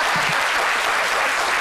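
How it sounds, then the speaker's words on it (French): A studio audience on a French-language midday television talk show bursts into continuous, dense applause, a loud, even wash of clapping heard alone throughout. "vous pouvez applaudir"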